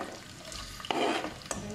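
Onions frying in hot oil with cumin in a home kitchen pan, giving a steady broadband sizzle with a couple of sharp stirring scrapes and a louder hiss burst midway; close and alone, no talk.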